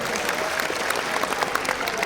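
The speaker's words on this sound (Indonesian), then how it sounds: "Tepuk tangan buat kita semuanya" A room full of people applauding, brisk steady clapping from a crowd.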